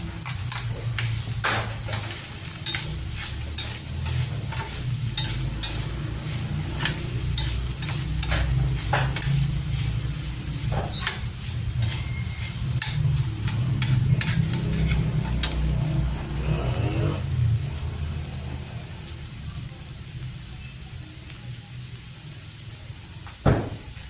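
Onion and garlic sauté in a pan for beef giniling, a close, steady sizzle broken by repeated scraping stirs and clacks of the utensil, with a knock near the end and rain-like noise overhead.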